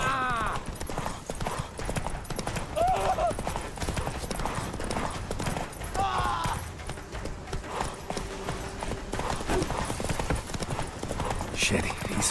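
Roach, Geralt's horse in The Witcher 3, gallops hard with rapid, continuous clip-clop hoofbeats and a brief whinny, all set against a busy game soundtrack.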